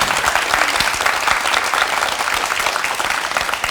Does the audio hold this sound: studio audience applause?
yes